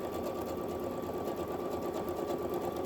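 Steady, fairly quiet hum of a sewing machine stitching along a fabric edge for a beginner cover, continuous and close with an even rapid needle rhythm, no talk.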